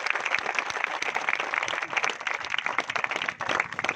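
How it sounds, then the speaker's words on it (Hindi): A crowd at an outdoor statue-installation gathering breaks into dense, sustained applause, loud and continuous clapping from many hands throughout. "जोरदार ताली बजा के इनका स्वागत करिए।"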